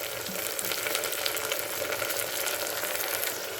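Vegetables for a broad bean, potato and tomato curry fry in a pan with a steady, dense sizzle and crackle, close and even throughout, with no talking.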